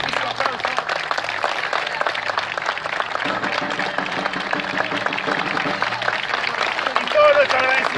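Audience applauding at a nineteenth-century reenactment of a battle between Spaniards and criollos at the Museo de Luján, a dense sustained wash of many clapping hands, with voices mixed in.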